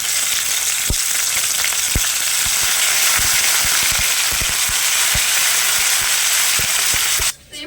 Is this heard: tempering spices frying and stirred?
yes